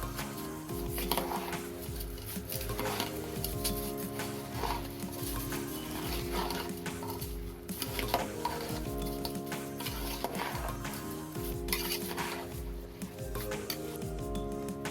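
Rice and sprouts pulao being mixed in a pan, with repeated scraping and stirring strokes in an uneven rhythm over a steady musical background.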